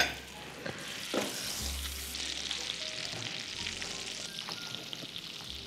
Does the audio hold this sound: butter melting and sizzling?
yes